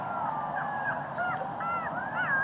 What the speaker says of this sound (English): This is the sound of jackals